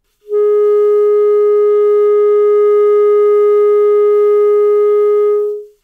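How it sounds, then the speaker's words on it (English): A clarinet plays a throat-tone A with a covered fingering, adding the 2-3 fingers, the F/C key and a trill key. One clean, sustained note holds steadily for about five seconds, with no other sound. "So what I do is I simply finger the covered A, 2-3, 2-3, and the FC,"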